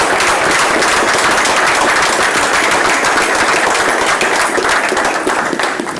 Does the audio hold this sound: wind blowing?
no